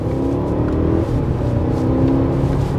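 Smooth, loud engine pull of a 2020 Audi A8 under acceleration, a steady rising whir and hum heard from inside the cabin with no speech.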